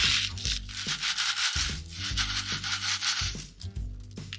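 Homemade maracas rattle and swish in quick repeated shakes, a dry gritty scraping sound close up with no voices.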